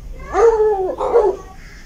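A cartoon dog's voice in a children's ABC phonics song gives a short, melodic bark-like whine in two close bursts, clear and up front with no talk over it.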